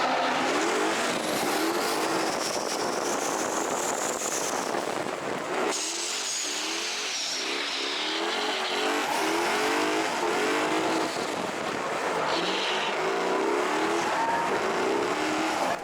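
An LS3-powered Miata race car in a drift battle, engine roaring at high revs while tires squeal and skid continuously, loud and sustained with shifting pitch as the car slides.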